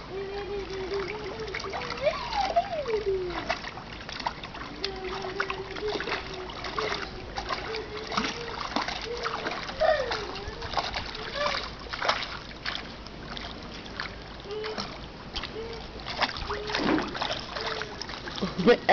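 A child splashes and kicks through pool water while learning to swim on his back, with irregular nearby splashes running throughout and an adult voice speaking over them.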